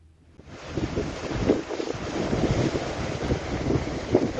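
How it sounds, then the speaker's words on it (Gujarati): Strong wind roars across the microphone over the rush of churning Arabian Sea waves at Porbandar ahead of Cyclone Shakti, a continuous loud blustery wash. "પોરબંદરના દરિયામાં જબરજસ્ત કરંટ દેખાઈ રહ્યો છે"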